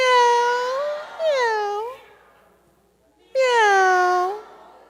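Children's voices imitate cat meows in drawn-out, falling calls: two close together, then a pause, then a third, loud and near with no other sound.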